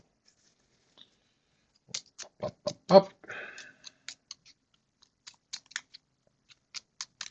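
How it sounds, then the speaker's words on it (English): A deck of cards is shuffled during a solo tabletop card game: scattered short riffling clicks and patters come in bursts, with a brief spoken phrase between them. "All right, I need to shuffle."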